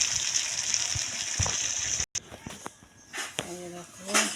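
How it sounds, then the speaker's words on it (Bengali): Broth splashes and gushes into goat meat curry in a cooking pot, a short pour with sizzling and clatter, followed by a brief break and scattered kitchen knocks. "এই যে দেখো আমি মাংস ঝোল দিয়ে দিয়েছি।"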